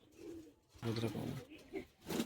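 High flying pigeons at a loft coo in low bursts, a few separate warbling calls close by with brief quiet gaps between them.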